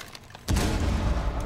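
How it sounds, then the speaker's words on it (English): A frag grenade detonates in Rainbow Six Siege, a sudden deep boom after a half-second of quiet, followed by a sustained rumbling roar that lingers to the end. "Throwing frag."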